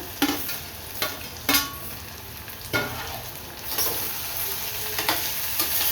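Chopped vegetables for pulao sizzle steadily in a hot pan, with a spoon scraping and stirring through them every second or so, close and clear with no talking.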